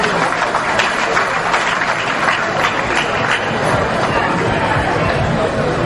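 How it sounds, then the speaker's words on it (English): At an independence celebration event, an audience applauds steadily with crowd chatter mixed in, a dense, continuous wash of clapping and voices throughout. "A round of applause."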